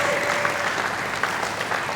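A conference audience at a property event in Lagos claps steadily in a dense, even wash of applause that runs the whole time, with no voice rising above it.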